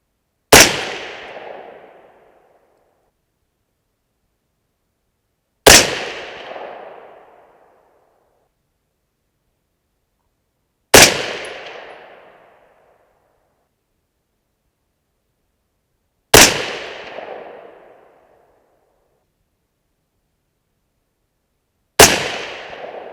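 6.5 Creedmoor rifle firing Barnes TTSX and Cavity Back MKZ bullets: five loud, sharp single shots spaced about five seconds apart, each ending in a short decaying echo, with silence between them.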